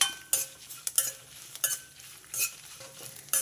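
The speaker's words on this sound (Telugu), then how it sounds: "ఇది ఇలా కలుపుతూనే వేయించుకోండి ఎందుకంటే ఎండుమిరపకాయలు మాడిపోతాయి" Dried red chillies fry in a pan while being stirred with a utensil, giving soft scraping and clinking strokes at an irregular rhythm over a faint sizzle, close up, with no talking.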